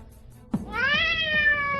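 A cat gives a single loud, close, drawn-out meow just after a soft thump, in a scene from a Tamil-dubbed Hollywood film. No voices are heard.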